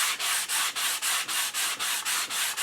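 Hand sanding of a wooden HW30 air rifle stock, steady rhythmic back-and-forth strokes of abrasive on wood, close and even, about ten passes with brief gaps between, no voices.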